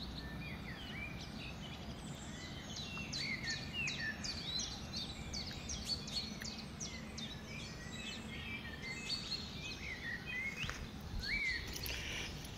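Assorted birds chirp and whistle in a village in the Matyapur countryside near Satara, with many short, bright calls overlapping steadily against a low, constant outdoor rumble, moderately distant, with no talking.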